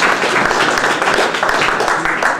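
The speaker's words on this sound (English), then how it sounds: "Let's have a big round of applause for Matt Fisher." An audience applauds for a presenter at a Flash developer event, a dense, loud burst of clapping from many hands filling the short moment.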